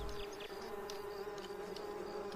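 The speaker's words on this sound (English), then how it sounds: "Bees." Bees in the video game Lakeview Cabin give a continuous, droning buzz at low level, steady throughout with faint flickers on top and no talking.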